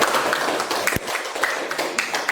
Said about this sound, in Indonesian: Minta tolong diri tepuk tangan dulu Bapak Ibu.